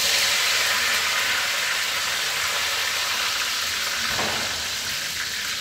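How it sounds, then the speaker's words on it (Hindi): Curry leaves dropped into hot oil with crackled mustard seeds and cumin give a loud, continuous hissing sizzle with a brief extra burst partway through; no voices. "इसमें डालते हैं करी मिर्च।"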